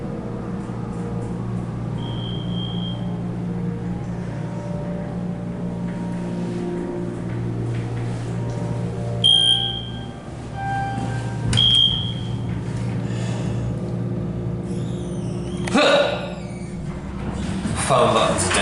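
A Schindler hydraulic elevator in the marketplace of the IKEA store in Brooklyn, New York, runs with a steady low hum, punctuated by several short electronic beeps and a clattering door near the end, while someone talks over it.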